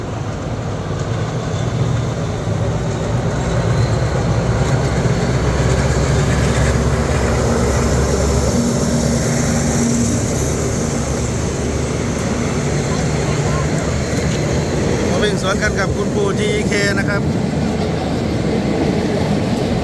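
Train 367 rumbles past along the railway beside Ratchaprarop, a loud continuous roar of wheels and carriages close by, with metallic squeals near the end.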